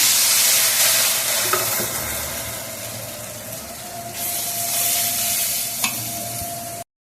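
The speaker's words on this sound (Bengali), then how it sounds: "এবার আমার আলুটা কষানো হয়ে গেছে। মশলা দিয়ে আমি জল দিয়ে দিচ্ছি।" Water poured over fried potatoes and spices in a pan, then stirred, giving a steady close hiss of sizzling and liquid with a couple of sharp utensil clinks against the pan, no voices.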